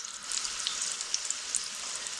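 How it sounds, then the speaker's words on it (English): Stuffed potatoes, cored and filled with fruit and nuts, frying in hot oil: a dense, steady sizzle with scattered sharp pops and crackles, close and loud, with no talking. "I'm going to fry these off on all sides and then put them to one side"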